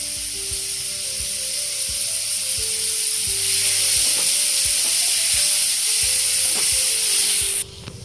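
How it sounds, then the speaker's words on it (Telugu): Tomatoes frying in oil give a constant bright sizzle with soft periodic stirring taps underneath, continuing until the sound cuts off abruptly just before the end; nobody talks. "కొంచెం ఆయిల్ వేసి వేయించుకుందామండి,"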